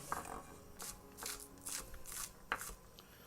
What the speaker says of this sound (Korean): 이제 소스에 들어갈 쪽파 다지겠습니다.